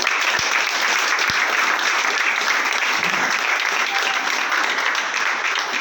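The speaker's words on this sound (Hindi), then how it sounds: "सभी अपने लिए भी एक बार जोरदार तालियां करें" A crowd at a motivational business gathering claps loudly and continuously, a thick wash of applause with a couple of sharp thumps early on.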